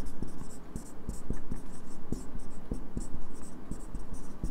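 A pen scratches out a line on paper in quick, rhythmic strokes, each tap and scrape crisp and close, continuing steadily without talk.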